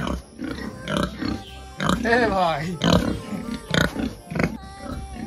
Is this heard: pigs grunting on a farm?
yes